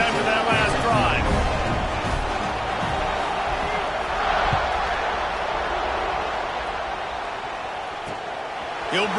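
Stadium crowd in a college football video game roaring through a kickoff, a sustained wash of cheering and whoops with occasional thuds, running under steady commentary.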